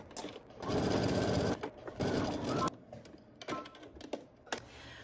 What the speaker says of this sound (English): you're gonna head to your sewing machine